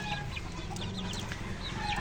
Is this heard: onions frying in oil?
no